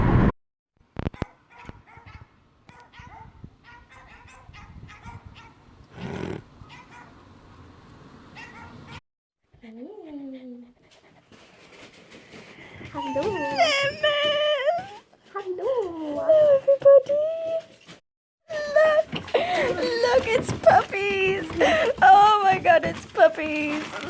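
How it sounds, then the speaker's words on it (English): Several puppies whimpering, yipping and squealing in a home, with high wavering cries growing busier and louder toward the end, heard between and under excited talk from people nearby. "puppies."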